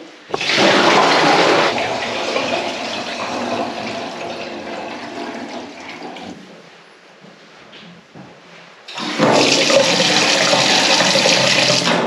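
Water gushing from a newly installed tap in a stone house being restored in Portugal, a loud steady rushing stream that eases off, goes almost quiet, then surges back at full flow.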